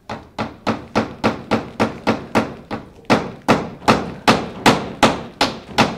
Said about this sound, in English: This lady knows how to swing a hammer.